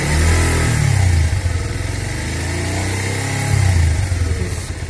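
A Bajaj Pulsar 150 motorcycle engine idling loud and close, revving up in a short blip of throttle, settling back, then rising again near the end.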